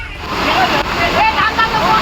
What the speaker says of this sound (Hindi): भरपूर पानी का बहाव इतना तेज था कि जो कोई भी इस झरने को पार करता वो बहता चला जाता।